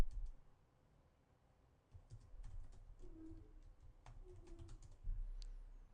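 Quick clicking keystrokes on a computer keyboard come in short bursts after a brief quiet start, close and fairly soft over a low room hum, with no voices.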